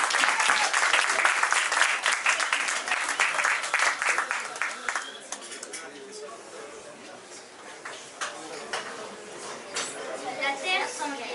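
An audience applauds prize winners Anouk and Romy at a literary festival reading, loud sustained clapping from many hands that slowly thins and softens toward the end.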